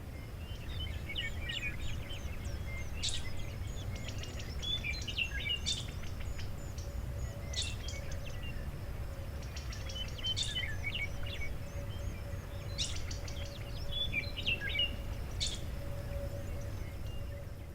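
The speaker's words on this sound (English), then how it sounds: "butterflies fluttering, birds singing" Birds sing and chirp in repeated bursts over a steady, low outdoor hum on Rowena Plateau, a grassy upland above the Columbia River, with a faint insect-like drone in the background and no voices.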